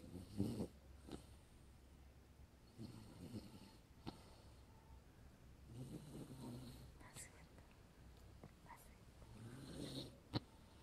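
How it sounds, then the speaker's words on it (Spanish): A pet snoring softly nearby, slow repeated rasping breaths in a quiet room, faint and low with a sharper snort near the end. "Mira la bestia ronca, ¿viste?"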